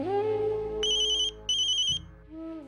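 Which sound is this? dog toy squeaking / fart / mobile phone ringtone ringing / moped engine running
mobile phone ringtone ringing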